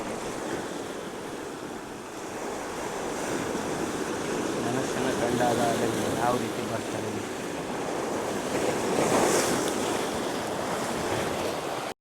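Sea waves washing onto the Madigudde beach shore near Bailur, Koppadamakki, a steady rushing surf layered with wind buffeting the microphone, swelling and receding over about twelve seconds.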